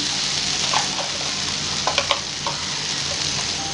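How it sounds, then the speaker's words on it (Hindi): Potatoes fry in a pan with a steady, fairly loud sizzle, broken by a few sharp scrapes and clinks as they are stirred midway. "अच्छे से हमारे पोटैटो जो थे फ्राई हो चुके हैं"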